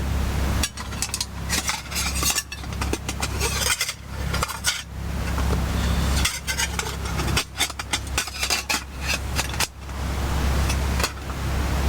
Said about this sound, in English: I'm just going to be frying this bacon grill